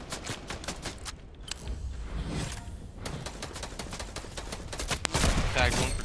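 Rapid bursts of gunfire and sharp sniper shots from a squad-based shooter video game crackle in quick, uneven volleys, with a louder cluster near the end and faint voices under the shots.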